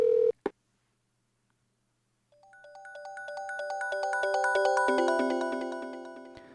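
Touch-tone dialing beeps from an old video game, a rapid run of many short electronic tones that build in loudness and then fade away, following a brief click and a stretch of silence, with no voices.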